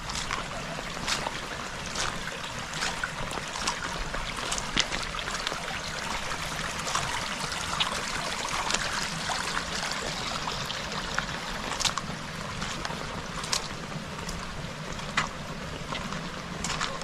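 Water runs and trickles along a flooded road in heavy rain during a flash flood in Cheswick, St Thomas, Jamaica. A steady close wash is broken by frequent sharp drip and splash clicks, and there is no speech.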